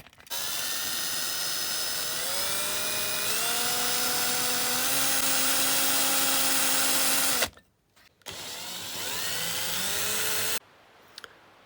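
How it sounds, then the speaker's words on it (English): A small power drill bores out the rivets on a Matchbox Superkings diecast Range Rover base, a loud high whine with pitch rising and dropping under load, pausing briefly, restarting, then stopping abruptly. "we're just going to drill the rivets out"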